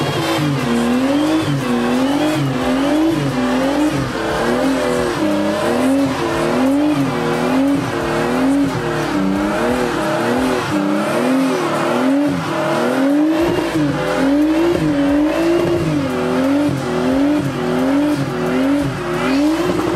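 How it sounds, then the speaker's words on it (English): A BMW E21 on fresh rear tyres does a burnout, the engine held at high revs with a wavering, pulsing note over continuous tyre squeal and roar, loud and close for the full twenty seconds with no talking. "I got to put some new tyres in the back, so I'm going to do a burnout to celebrate."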